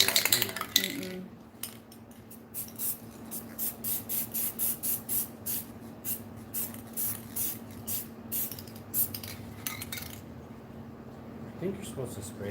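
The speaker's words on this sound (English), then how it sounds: "Shake can vigorously for 1 minute." A spray paint can is shaken hard, its mixing ball rattling in a quick, even series of metallic clacks that runs for several seconds at close range before it stops.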